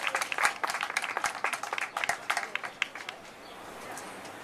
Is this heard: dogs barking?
no